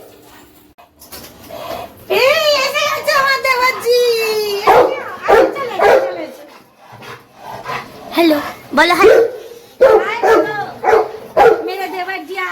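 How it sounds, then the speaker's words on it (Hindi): A pet dog in a home barks repeatedly at a visiting uncle, mixing loud barks with whimpering yips, while someone talks over it close by. "मेरा भाई चिल्ला रहा है, भौंक रहा है क्योंकि अंकल आए हैं"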